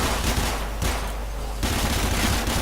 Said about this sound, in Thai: ยิงแบบตึกตึกตึกตึกแล้วก็ปืดนะครับ